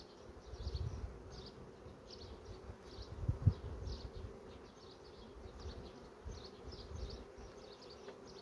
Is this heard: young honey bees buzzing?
yes